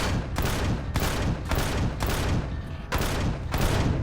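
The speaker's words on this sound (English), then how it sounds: "Handy having gat cannons there to help you." Gat cannons in Empyrion Galactic Survival fire in rapid, loud bursts, about seven close roaring volleys in quick succession with short gaps between them.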